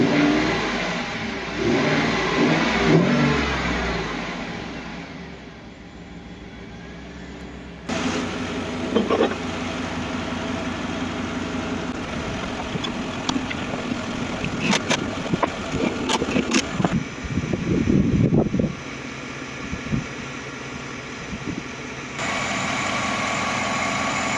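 A car engine is started and left running, a steady mid-pitched hum with some revving and a few mechanical clicks and knocks along the way, moderately loud and close, with no talking.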